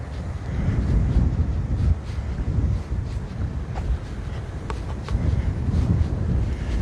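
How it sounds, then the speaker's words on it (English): Wind buffets the microphone in a steady, rumbling roar that rises and falls during a walk from Kaimuki to Waikiki in Hawaii, with faint traffic noise in the background. "That wind feels good, huh, Lucille?"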